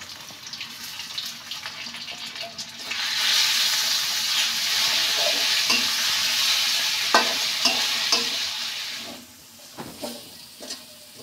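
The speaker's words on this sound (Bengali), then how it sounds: "পেঁয়াজটা ব্রাউন কালার হয়ে গেছে, এখন আমি এই মাংসগুলো দিয়ে দিচ্ছি।" Small meat pieces hit a pan of browned onion and fry, a loud sizzle bursting in after a quieter start, with clattering stirs and scrapes before it settles down, close up and without speech.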